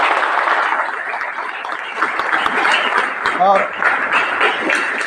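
Sustained applause from an audience of schoolgirls welcoming a guest, dense and steady clapping throughout, with a brief voice heard over it midway.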